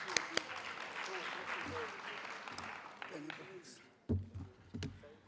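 Moderate applause for conference panelists at a TVET college policy event, fading from fuller clapping to sparse claps with a few sharp louder hits and brief voices near the end.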